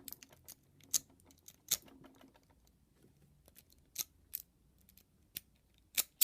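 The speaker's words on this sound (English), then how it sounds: "And can we zip this lock?" Sharp metallic clicks and rattles as a pick zips a padlock, several irregular snaps spaced across the span with quiet gaps between them.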